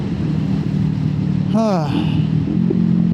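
A Kawasaki Eliminator 450 motorcycle on the road, its engine droning steadily with a rising rev swoop midway and wind rush, heard from the rider's position, with someone talking over it.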